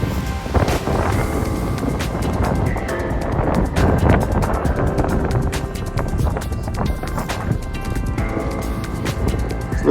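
Steady, loud wind buffeting the microphone from a kayak on Lake Hemet on a windy day, a dense continuous roar with gusty surges and faint splashy texture throughout, no voices.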